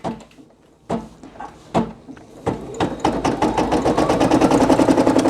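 A Brother PE800 embroidery machine starts after a few clunks and taps, then settles into a loud, rapid, rhythmic stitching patter that grows steadier toward the end.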